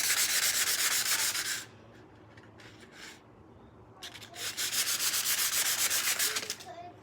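Sandpaper rubbed over whittled wood in steady back-and-forth strokes, close and fairly loud, with a quiet pause and a few brief scrapes before sanding resumes.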